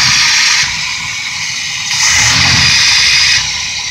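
A Chevy P30 engine idles with a steady mechanical drone while the carburetor jets hiss and spool, the sound swelling and easing in two broad surges, close up with no talking.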